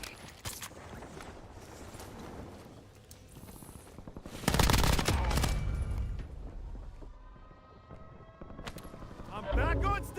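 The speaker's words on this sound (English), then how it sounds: "Taking effective fire!" Video game combat gunfire arrives in bursts, with rapid machine-gun-like volleys and a loud heavy blast partway through, mixed with footsteps and voices talking over the action.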